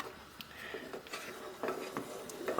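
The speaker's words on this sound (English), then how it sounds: "keep on stirring until we come to simmering point" A spoon stirs simmering toffee caramel sauce in a pan, scraping with soft, irregular clinks and scrapes and a faint bubbling undertone, close and fairly quiet, with no talking.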